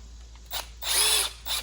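Power tool zipping out 10mm bolts on a Toyota 3.4L engine during a valve cover job, three short whirring bursts, the middle one longest, close over a low steady hum.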